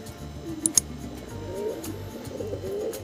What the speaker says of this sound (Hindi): अभी अंदर से निकल रहे हैं कुछ कबूतर